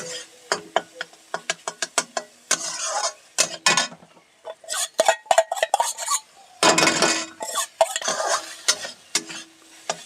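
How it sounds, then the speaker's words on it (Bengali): A soybean paratha filling is stirred and fried in a pan, with a spatula repeatedly scraping and clattering against the metal over a low, intermittent sizzle, in irregular bursts close by. "এটাকে আমি খুব ভালোভাবে নেড়ে চেড়ে কষে নেব।"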